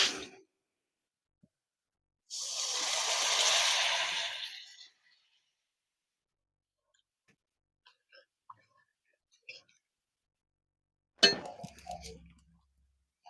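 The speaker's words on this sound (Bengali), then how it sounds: "জল দিচ্ছি" Water is poured into a pot of Aar fish head curry (rosha) with coriander, making a steady rushing pour of about two and a half seconds. Near silence follows, broken by faint clicks and a sharp clatter of utensils near the end.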